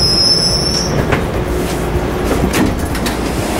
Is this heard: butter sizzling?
no